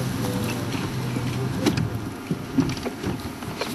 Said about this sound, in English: I'm really not enjoying this noise of the engine.